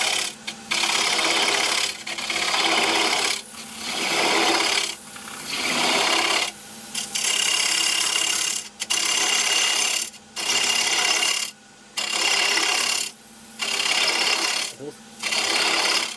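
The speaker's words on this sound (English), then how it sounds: "I'm pulling the chisel with my left hand and using the left wing, and that's just cutting right in there." A chisel cuts into a spinning wooden bowl on a woodturning lathe, a loud rasping scrape that comes in about ten steady bursts separated by short pauses.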